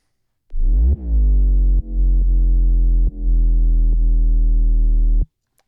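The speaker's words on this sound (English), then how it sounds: "I just took like a saturated sine wave essentially." A saturated sine-wave sub bass patch in Ableton plays loud, sustained notes that glide in, then restart in several abrupt re-triggers before cutting off cleanly.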